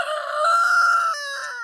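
A chicken, a crossbred meat bird, gives one loud, close crow that holds steady through the middle and trails off into a short clucking tail, with no other sound around it.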